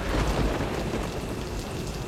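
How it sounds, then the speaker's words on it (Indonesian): Heavy rain pours down in Mumbai, a dense, loud, unbroken wash of falling water with a low rumble, and no voices. "Hujan di Mumbai luar biasa ya"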